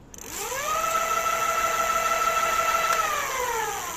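A 1000 W electric bike motor on a Konar 29R Touring Style e-bike whines up in pitch, holds a steady high hum for a few seconds, then starts winding down, loud and close with no voices.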